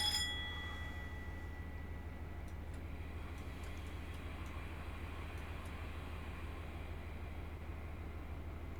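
A Voyager train running on the Riviera Line between Exeter and Plymouth in Train Simulator Classic, a steady low engine drone and rail rumble with a faint high whine, and a few light clicks partway through.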